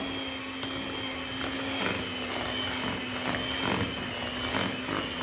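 An electric hand mixer whirs steadily through pempek fish dough made with mackerel, a constant motor hum with faint irregular knocks as the beaters churn, close and alone.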